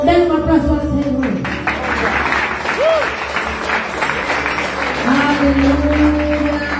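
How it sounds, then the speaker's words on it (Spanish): A church congregation breaks into loud sustained applause during worship, with voices and music mixed in alongside the clapping. "Den un aplauso al Señor."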